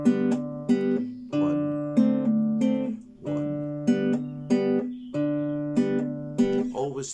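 An acoustic guitar plays the lower line of a second guitar part for a tree-frog piece, plucking clear repeated notes in a steady three-beat pattern, close and alone.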